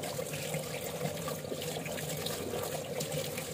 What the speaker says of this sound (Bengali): মাছগুলো আমি হালকা একটু লবণ দিয়ে ভালো করে আবার ধুয়ে নেবো